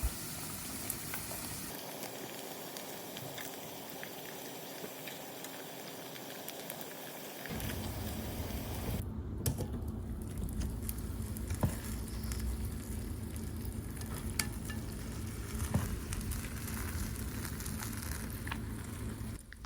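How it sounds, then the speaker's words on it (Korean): Steady crackling and sizzling of glutinous rice scorched crust (nurungji) frying in hot oil, a dense bubbling hiss that continues throughout without voices. "누룽지 바사삭 바사삭 하는 소리 들리시죠?"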